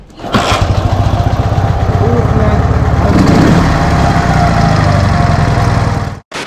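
A Dnepr MT11 motorcycle engine with PZ30 carburetors starts and runs at a loud, close, rhythmic idle, the steady thudding pulse continuing until a brief drop near the end.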